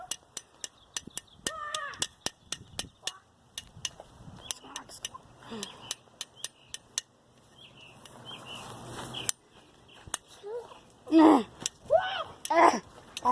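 Cawing bird in a video game, harsh caws clustering near the end among rapid sharp clicks and ticks earlier on, with game ambience underneath and fairly loud, close calls.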